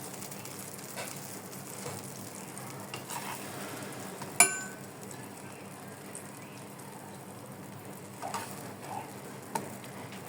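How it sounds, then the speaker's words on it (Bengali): Ash gourd slices frying in a pan, a faint continuous sizzle with occasional light scrapes and clicks of a utensil. A sharp clack rings out midway, and there is no talking. "আমি সবগুলোকে এই একইভাবে ভেজে নিচ্ছি।"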